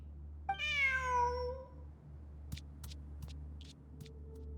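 Cat meows once, long and rising then falling, in Genshin Impact, followed by a few faint short clicks over a low steady hum; nobody speaks.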